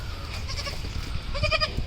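Hungry young goat kids bleating while their mother stands to nurse them, two or three short, close, high bleats over a low rumbling background.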